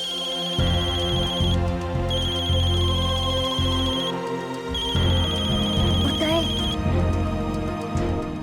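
A telephone rings in a repeating pattern of bright tones, heard in a TV drama over background music and other layered sound, with no talk.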